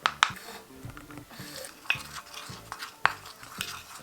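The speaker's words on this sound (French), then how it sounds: "Il faut mélanger, ça dit 4 cuillères à 4 cuillères d'eau" Clay face mask powder being stirred into water with a spoon in a small bowl, giving scattered scraping clicks and soft wet stirring sounds, close and fairly quiet.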